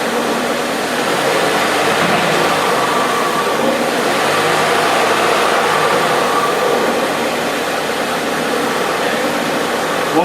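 A 2004 Saab 9-3 engine runs in gear with a little throttle during a motor and torque mount check, giving a steady, loud, continuous drone that holds an even level with no talking.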